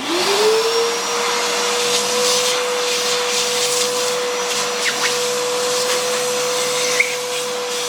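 A vacuum cleaner runs steadily and fairly loudly, close by, sucking old gasket material off a Jeep 4.0L engine block during cam, lifter and timing chain work, its motor spinning up at the start and then holding one even whine.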